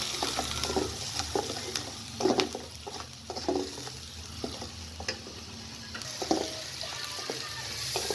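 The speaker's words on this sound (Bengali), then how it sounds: "এখন মশলাটা ভালো করে কষাই দেব" Cumin spice paste fries in hot oil in a pan for a rohu fish curry with potatoes, crackling and sizzling steadily while a spoon stirs in repeated scraping strokes, close and moderately loud.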